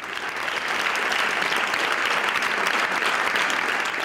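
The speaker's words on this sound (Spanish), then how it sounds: "Los diputados le han dedicado este sonoro aplauso" Parliament deputies give a departing colleague a sustained, loud round of applause, dense and even from start to finish in a large chamber.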